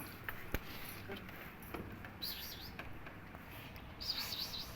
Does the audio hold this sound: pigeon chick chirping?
yes